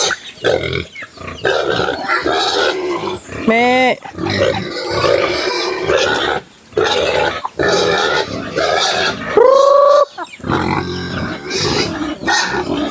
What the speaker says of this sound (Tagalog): Napakaingay ng baboy.